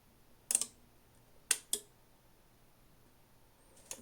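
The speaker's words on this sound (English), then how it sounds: "Now I can clearly hear that these 2 relays are clicking together." Sharp relay clicks from a Kenwood PWR18-2TP power supply under repair, a quick tick followed by two more about a quarter second apart, then a faint fourth click, in a quiet room.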